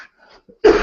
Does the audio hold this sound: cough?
yes